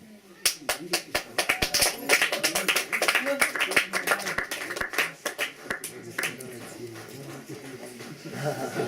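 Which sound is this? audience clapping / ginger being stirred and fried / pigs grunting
audience clapping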